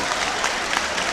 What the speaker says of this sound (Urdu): ایک بار مجھے تالیاں بجا کے اجازت دے دیں.